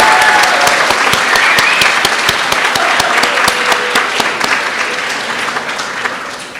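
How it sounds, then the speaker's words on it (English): Loud applause for graduates at a Stanford pediatric residency graduation ceremony, a dense crowd of clapping hands with sharp individual claps standing out, sustained and slowly tapering toward the end. "Let's give one more round of applause for our graduates."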